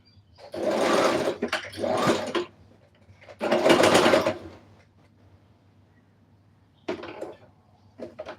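A sewing machine stitches fabric for a Christmas dress in three loud, close bursts of whirring, the first two long runs around a second or more each, then a shorter spurt and a brief final stutter after a pause.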